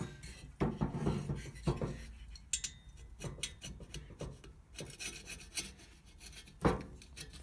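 Carbon being scraped off a Citroën 2CV cylinder head, a run of rough, irregular rasping strokes with occasional sharper scrapes and clicks, close up and fairly quiet with no talking.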